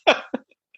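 A person in COVID quarantine gives two quick close coughs, a sharp first burst followed by a shorter second one, then silence.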